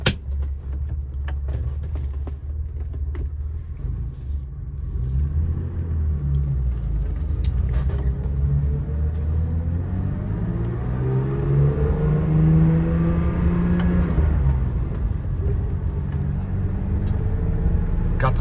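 A 1972 BMW Bavaria engine starts without gas and settles into a steady idle, then builds into a running drone with rising and falling engine tones, sustained and fairly close throughout.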